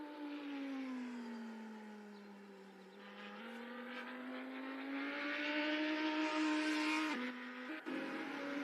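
Race cars in a virtual racing game, a sustained high engine whine that rises and shifts in pitch as the cars accelerate, with a sudden gear change near the end.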